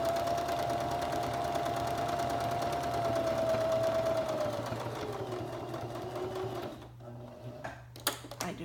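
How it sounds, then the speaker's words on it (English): A sewing machine stitches around a quilted scrap-fabric leaf, its steady fast whirring hum and needle clatter running for several seconds before slowing and stopping, followed by a few small clicks. "I don't even cut my threads at this point, I just keep sewing."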